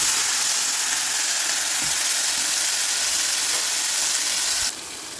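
Citron pickle is tempered with mustard seeds and asafoetida in hot oil, giving a loud, steady sizzling hiss close up that drops away abruptly near the end.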